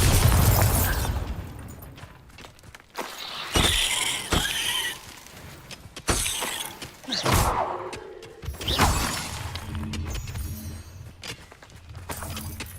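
Bombarda blasting spell going off in the video game Hogwarts Legacy: several loud booming bursts and crackling impacts spread over several seconds, with game effects between the blasts and no talking.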